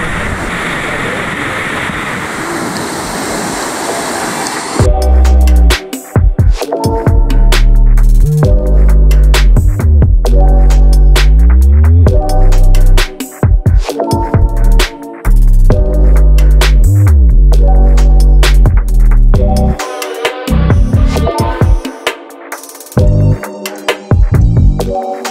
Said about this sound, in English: Cool things about this spot is you can literally stand right next to the waterfall